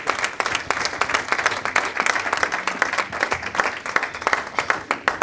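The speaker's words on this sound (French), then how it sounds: "Est-ce qu'on peut acclamer pour le Seigneur?" A church congregation applauds for the Lord with loud, sustained clapping, steady and even for several seconds, joined by a few cheers within the crowd.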